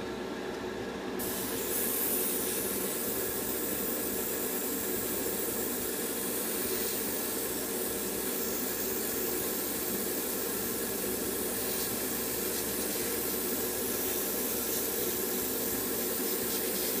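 An airbrush lays a dark shadow coat of paint onto a Trumpeter MGS4 Drebin Stryker model kit, giving a steady, close, unbroken hiss that runs the whole time with no talking.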